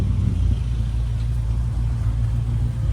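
The engine of an old 1928 truck runs with a steady, loud low rumble that holds evenly throughout, without clear separate cranking.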